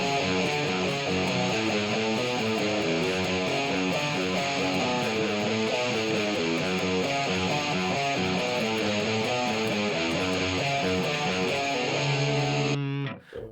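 Distorted electric guitar playing a riff with an EQ-matched tone, loud, dense and continuous, ending on a sustained chord that cuts off abruptly.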